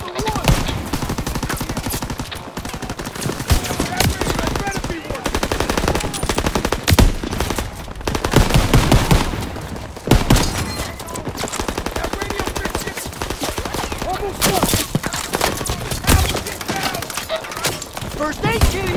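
Call of Duty: WW2 battle at the Bulge: dense rapid machine-gun bursts and rifle shots crackle continuously with explosions and thuds, loud and close, while soldiers shout orders over the firefight.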